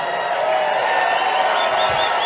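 A large crowd at a Donald Trump rally in Waukesha, Wisconsin, a dense, steady roar of cheering and applause filling the space throughout, loud and continuous.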